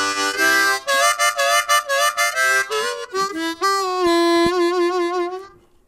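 A Hohner Marine Band 1896 model harmonica plays a lively phrase of reedy, bright chords and single notes, rapid pulsing repeats giving way to longer held bends that fade out, close and alone.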